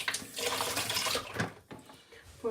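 Liquid splashes and runs steadily while spring rolls are prepared in a home kitchen, a close, fairly loud rush of water with brief gaps and small knocks.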